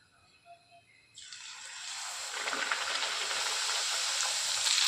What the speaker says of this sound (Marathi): आता आपल्याला छान मीडियम फ्लेमवरती पूर्ण पुऱ्यात छान तळून घ्यायचे आहे